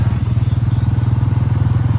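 A motorcycle rides along a road, its engine a loud, close, steady pulsing throb throughout.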